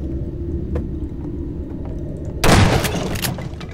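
A single gunshot goes off in the horror video game Nightmare House 2, a sharp loud blast standing out over a low ambient rumble.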